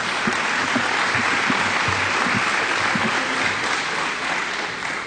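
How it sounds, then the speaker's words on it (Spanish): A church audience applauds Julie, a steady, dense round of clapping that fills the space evenly from start to finish with no voices standing out. "Muy bien, un aplauso, Julie."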